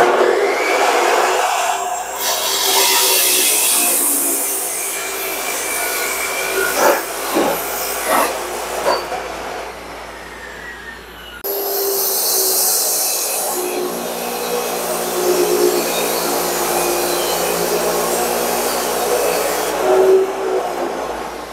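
A steel golf club shaft is cut with a power saw in a workshop, giving a loud, sustained high-pitched whine and grinding in two long passes with scattered clicks and knocks.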